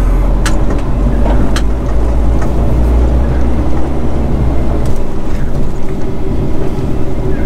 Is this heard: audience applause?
no